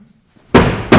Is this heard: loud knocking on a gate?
yes